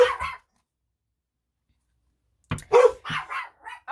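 Puppies yap in short, excited bursts: a couple of quick barks, a stretch of silence, then a rapid string of close, loud yips and barks with no talking.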